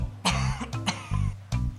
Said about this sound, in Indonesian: udah 3 hari nih gue batuk nggak sembuh-sembuh.